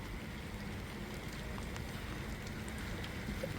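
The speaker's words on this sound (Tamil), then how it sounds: "அதனால மழை பேஞ்சிக்கிட்டு இருக்கு." Rain falling outdoors in steady, soft patter, a continuous faint hiss with scattered small drops and no voices.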